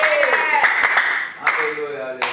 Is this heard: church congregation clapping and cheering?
yes